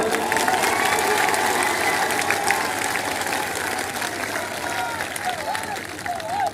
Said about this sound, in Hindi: मुझे तो ग्वालियर की ताली सुनाओ